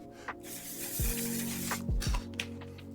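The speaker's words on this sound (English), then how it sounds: "then I'm going to just lock everything in with my one size setting spray." A soft hiss of makeup setting spray mist, steady for a couple of seconds with a few low thumps underneath.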